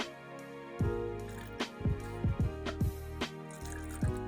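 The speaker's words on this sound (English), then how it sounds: "Let me pour it this time." Boba milk tea pours from a container into cups, giving a few short liquid splashes and drips, fairly close and quiet with no talking.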